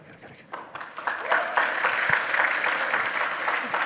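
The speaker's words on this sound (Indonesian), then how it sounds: "jangan tepuk tangan aja loh bro" A university lecture audience in Surabaya breaks into applause, starting softly and quickly building into loud, dense clapping from many hands that holds steady, with some voices mixed in.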